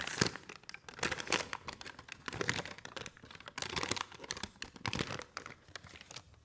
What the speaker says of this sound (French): Les feuilles sèches crissent sous mes pieds.